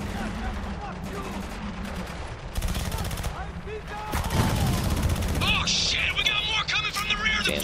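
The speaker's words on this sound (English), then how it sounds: "the recoil on this frickin' Uzi sucks" Rapid bursts of Uzi submachine gun fire in the Spec Ops: The Line war shooter, loud and close, mixed with other gunfire, impacts and game battle noise while squadmates shout over the shooting.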